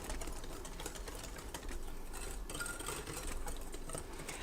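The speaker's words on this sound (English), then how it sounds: "And then we're just gonna whisk it." A whisk beats a pudding mixture in a bowl for a Thanksgiving pie, giving a steady, continuous rapid scraping and clicking rhythm close by, with no talking.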